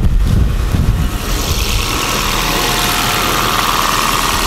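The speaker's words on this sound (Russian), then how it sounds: "давайте посмотрим на сам двигатель" A hybrid car's combustion engine idles steadily at a used-car market, a continuous mid-low rumble with an even, unbroken drone heard close up and alone.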